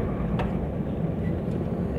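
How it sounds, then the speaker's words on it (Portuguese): A truck descending the Serra do Cadeado mountain road with its engine brake on the first stage gives a steady, loud, low rumbling drone with constant road and engine noise. "posso deixar o freio motor no primeiro estágio"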